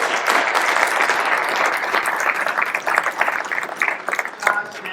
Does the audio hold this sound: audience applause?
yes